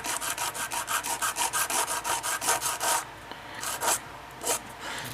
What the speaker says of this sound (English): We just want to take that little bit of surface rust off.